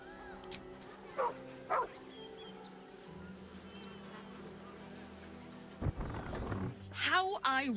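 Dogs barking in Baldur's Gate 3: a few brief yips early on, then a louder burst of barking near the end over a faint, steady game background.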